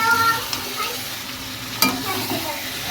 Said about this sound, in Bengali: আমি মাংসটা ভালো করে কষে নিই